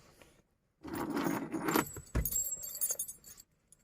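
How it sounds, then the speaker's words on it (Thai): A car key jangles on its ring and is pushed into the ignition of a car sitting in neutral, with a brief burst of metallic rattling and clicks close by, then quieter handling. "เสียบกุญแจเข้าไป"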